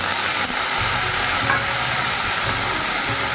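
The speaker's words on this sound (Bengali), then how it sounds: "একটু মশলা ধোয়ার জল দিচ্ছি অল্প" Spice-washing water poured into spices frying in a pan for a thick curry, producing a loud, steady hissing sizzle with bubbling crackle that holds continuously up close.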